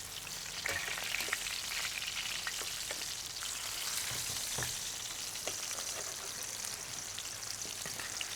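Tofu frying in a pan with a steady, dense sizzle and occasional small pops and crackles, constant and close throughout.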